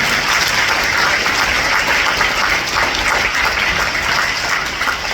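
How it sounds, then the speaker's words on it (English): Steady, loud applause fills a school assembly hall, a dense wash of clapping from many students and families held at an even level throughout without pause. "Let us clap for them."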